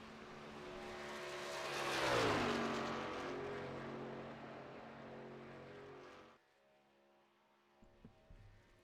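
A racing truck from the Wallbanger Racing Truck Series roars around an oval track in qualifying, its engine swelling loudly as it passes close by, then fading to a distant hum.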